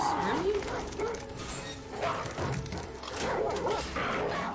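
Dogs bark and yip in a scene from The Last of Us TV series, moderately distant and repeated, mixed under people talking over them.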